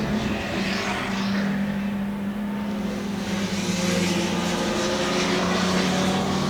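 An HWM Jaguar racing car at Goodwood runs continuously close by, its engine a steady, rough, loud drone with a strong low hum throughout.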